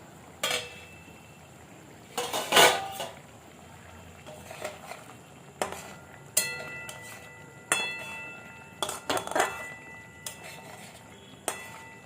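Metal lid lifted off a pan of bhetki fish cooking in an orange sauce, giving a series of sharp clanks and clinks spread over several seconds amid a soft background hiss, with no talking.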